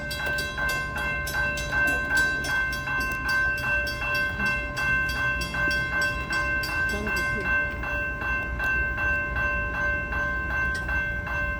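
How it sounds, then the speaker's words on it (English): Freight train with Union Pacific locomotives rolls past nearby, a steady heavy rumble with rhythmic wheel clatter and a sustained ringing crossing bell over the whole pass. "It looks like a Union Pacific or CSX with Union Pacific power."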